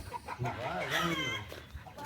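Warbling, gobbling turkey calls from farm turkeys, fairly close, with a bit of background chatter mixed in.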